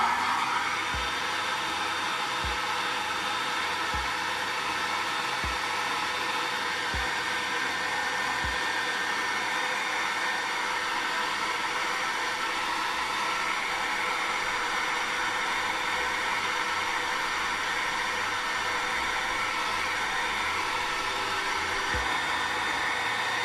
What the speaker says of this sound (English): Let's blow dry that.